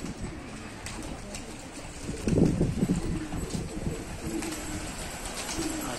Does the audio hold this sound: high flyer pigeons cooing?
yes